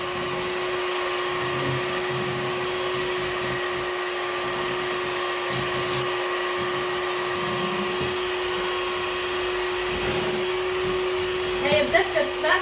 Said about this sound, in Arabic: غادي نطلع هاد كريمه الخفق حتى تشد راسها مزيان